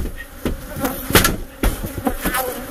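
Bees buzzing around an RV where a colony lives, a close, steady insect drone with several sharper bursts and knocks breaking through.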